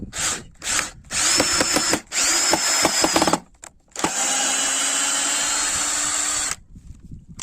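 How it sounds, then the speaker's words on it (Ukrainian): Bosch GSR12 cordless drill, repacked from nickel-cadmium to lithium cells, driving a self-tapping screw in several loud whirring bursts with short pauses, ending in one long steady run that stops abruptly. "Та буде добре крутити саморіз."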